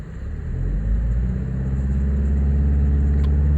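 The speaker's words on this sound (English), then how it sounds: "Let me rev the car up till 2000 RPM again." A Mazda car engine, which has a fault, is revved up to about 2000 RPM and held there, its deep rumble swelling slightly and then staying loud and steady up close.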